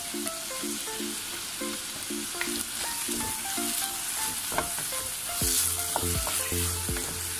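Whole spices such as nutmeg, green cardamom, cinnamon stick and cloves hit hot oil in a pan for chicken pulao, giving a steady close sizzle and frying crackle with some stirring and clinks, while background music plays.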